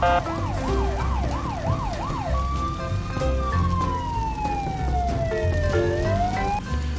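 An electronic toy fire truck siren plays a rapid wailing warble that shifts into long, slow rising and falling sweeps, fairly loud and close, with faint toy motor noise beneath.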